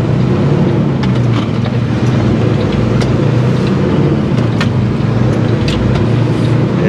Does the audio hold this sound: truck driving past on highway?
yes